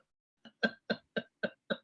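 A voice imitates a whooping cough, giving a quick run of six sharp, evenly spaced coughing bursts, close and fairly loud against silence.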